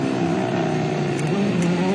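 A WRC rally car at the Safari Rally in Kenya, Hell's Gate near Nakuru, with a steady loud engine drone and tonal whine as it brakes and turns in, constant throughout and no talk.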